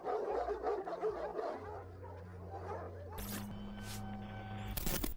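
Stray dogs barking and yipping in a quick, overlapping burst, moderately close, with steady sustained tones and a brighter shrill layer joining toward the end.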